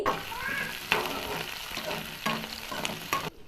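Shallots and curry leaves frying in hot oil, with a bright crackling sizzle and several sharp stirring scrapes, close and steady until a sudden cutoff near the end.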